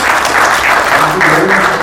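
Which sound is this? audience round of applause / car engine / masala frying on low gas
audience round of applause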